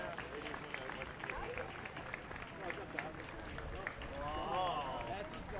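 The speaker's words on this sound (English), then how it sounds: "I'm sure you can hear the continuous round of applause as Veterans Inc. has gone by" A Memorial Day parade crowd in Shrewsbury, MA keeps up a steady round of applause as veterans ride past in special cars, with broad, continuous clapping and voices mixed in throughout.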